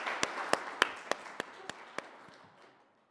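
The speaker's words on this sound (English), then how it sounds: "Another round of applause for her" A small audience at a petroleum policy consultation meeting gives a short round of applause, about seven distinct sharp claps spaced evenly and fading out quickly, with no talking.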